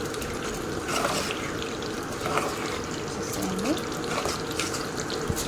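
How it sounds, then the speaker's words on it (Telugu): Hot water pours steadily into a pot of salted fish curry, a continuous rushing splash with a few faint clinks over a low background hum. "ఇప్పుడు మనము హాట్ వాటర్ వేసుకున్నాము"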